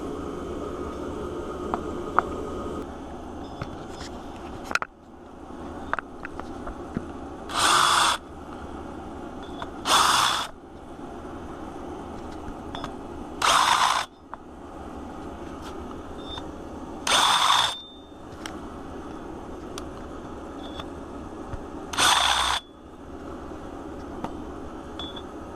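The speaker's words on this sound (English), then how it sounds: "I'm going to countersink these holes and then we can push the studs back in." A drill countersinks bolt holes in Volkswagen Vanagon hubs and drums, with several short bursts of high whine separated by pauses and a low background hum.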